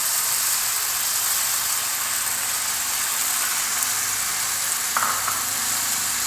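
Tomato puree frying with masala in a hot pan while making spicy chicken sausage masala, giving off a steady, close sizzle that holds evenly throughout with no voices.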